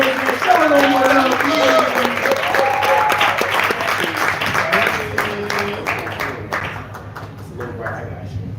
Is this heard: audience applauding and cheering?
yes